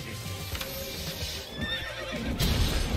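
A horse in a video game neighs in a loud whinny, with clip-clopping hooves beating close by under and after the call.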